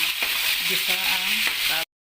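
Pork sautés in cooking oil in a pan, a close, steady sizzle with a few scraping stirs, ending abruptly after about two seconds.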